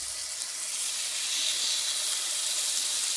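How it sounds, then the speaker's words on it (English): Steaks laid into a hot cast iron skillet sizzle with a loud, steady, bright hiss that holds evenly throughout, close and alone. "You're going to set them right into the cast iron skillet. And it will make quite a nice noise when you put it in there."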